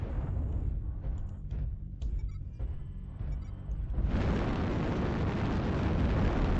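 Artillery strike explosions in the MechWarrior Online video game: a run of rumbling blasts and sharp bursts, then a sustained heavy roar of detonations filling the last seconds.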